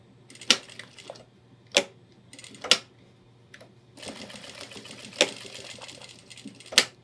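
Sewing machine stitching raw webbing on a homemade 30L ultralight hiking backpack, with sharp clacking bursts at irregular intervals and a longer run of rapid stitching, close and fairly quiet over a low steady hum.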